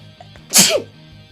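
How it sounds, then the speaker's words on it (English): A single sharp sneeze bursts out, close and loud, over a quiet room. "Oh, I gotta sneeze."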